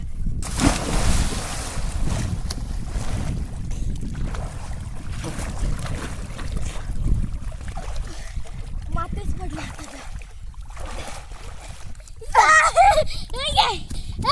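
Children splashing and jumping into a river, with water splashes and churning under lively kids' chatter and shouts throughout, a brief burst of higher excited voices near the end.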